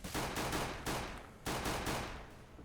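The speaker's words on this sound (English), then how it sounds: "now HHSK is missing those headshots, but does finally land one" Gunfire in Counter-Strike on the map Cobble, several loud bursts of rapid shots in quick succession, filling the clip with dense, close reports and no talk.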